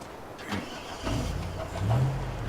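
An old Fjord truck engine in the game Tell Me Why cranks and starts, then settles into a low idle and rises slightly in revs, moderately loud and close with no voices over it.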